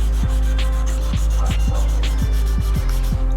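Body filler being sanded by hand with 400 grit sandpaper, a steady close rasping rub with repeated strokes, over a constant low hum.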